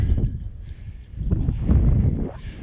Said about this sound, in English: today is windy